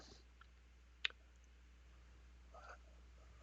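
A single sharp computer mouse click stands out against a quiet background, with a few faint clicks and soft rustles around it.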